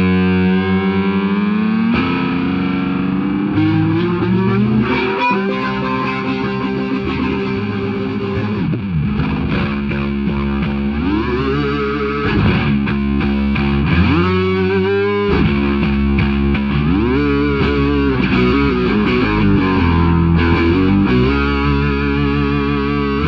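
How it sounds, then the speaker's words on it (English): Bass guitar played through a Pitchfork pitch-shifting pedal, heavily distorted and effected, with wild swooping pitch bends rising and falling over a sustained noisy drone, loud and continuous throughout with no talking. "I like to turn this pitchfork on, do some pitch bending, make it sound real wild."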